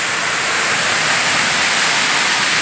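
Waterfall at Arra Tompobulu in the Maros hills: steady, dense broadband rushing of falling water, loud and unbroken throughout.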